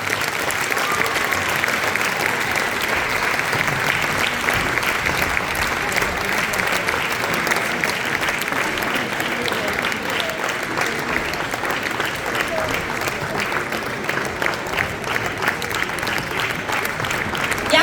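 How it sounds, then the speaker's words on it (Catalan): Long, unbroken applause from a festival crowd greets fourth-year pupils of the Gurb schools during the Festa Major centenary celebration, a steady, dense roar of many hands clapping that neither swells nor fades for nearly eighteen seconds. "Hem de fer durar més aquest aplaudiment perquè hem de fer molt de camí aquest cop."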